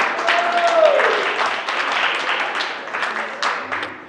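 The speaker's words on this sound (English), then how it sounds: "please give yourselves a round of applause for being here tonight" A crowd applauds at a Ring Wars Carolina wrestling show, clapping loudly and steadily, with a faint tone and scattered background noise in the hall.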